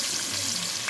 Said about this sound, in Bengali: পেঁয়াজগুলোকে খুব লাল লাল করে ভেজে নেব